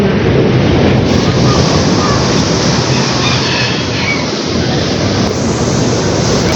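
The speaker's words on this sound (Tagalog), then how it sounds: "sobrang lakas talaga ng alon" Strong waves and wind batter the shore, a loud, continuous rushing roar that fills the clip without letup.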